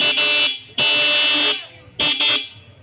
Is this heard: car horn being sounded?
yes